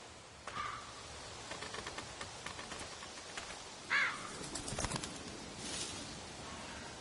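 A crow caws a few times at a distance in an outdoor setting, with faint wingbeats and a quiet background.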